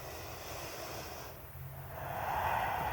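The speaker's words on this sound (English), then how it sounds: "bringing some oxygen to the upper body with deep breaths into the stomach. And just letting it go on the exhale." Slow, deep breathing into the stomach during a yoga session, a long soft airy exhale close to the mic, alone without speech.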